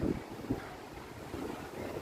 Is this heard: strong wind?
yes